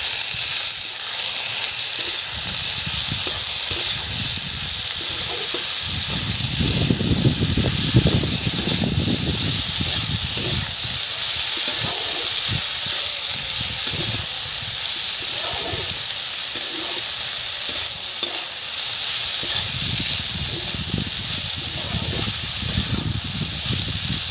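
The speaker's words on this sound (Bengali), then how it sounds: "দেখুন কেটে রাখা শাক তুলে দিলাম" Chopped gime greens sizzle in a hot pan with oil after fried potatoes, a continuous hiss that swells in bursts as the greens are stirred, with no talk over it.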